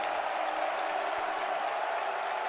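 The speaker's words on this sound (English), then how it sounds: "Here comes the majority Cream and Crimson crowd again" A large arena crowd backing Indiana at a Big Ten basketball game in Chicago gives off a steady, dense roar of cheering and applause that stays loud throughout.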